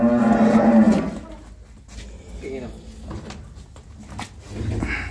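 Cows and a six-day-old heifer calf on a dairy farm: one low, loud moo opens, followed by quieter bovine grunts and shuffling farmyard noise.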